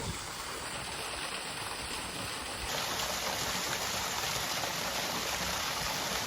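Water pours down onto a ceiling with a steady, dense rushing splash that grows slightly louder partway through and continues unbroken, with no voices.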